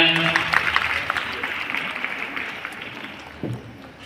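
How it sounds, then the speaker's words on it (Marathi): Applause from the audience at a women's college annual gathering and prize-distribution ceremony: a burst of crowd clapping that gradually fades over a few seconds. "जोरदार टाळ्या."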